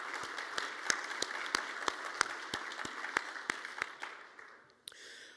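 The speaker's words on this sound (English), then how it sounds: "Please applaud Dr. Zayudi." Audience applause at an awards ceremony in Dubai, a sustained bed of clapping with sharp individual claps standing out, moderately loud and steady before dropping off near the end.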